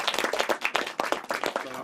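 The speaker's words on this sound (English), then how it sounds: "Give them a round of applause, please." A room of people clapping, quick uneven claps blending into brief applause, fairly close and lively.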